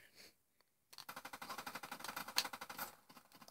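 Rapid automatic gunfire from an online gun game match in the video game Black Ops 3, a dense burst of repeated shots lasting a few seconds after a brief quiet start, loud and close with no talking.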